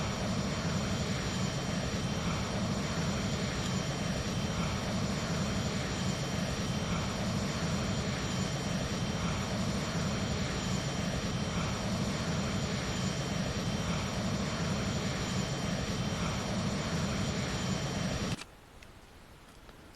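An airplane engine drones steadily in flight at high altitude in a flight simulator game, a dense even roar holding for most of the stretch before cutting off abruptly near the end, with no talk.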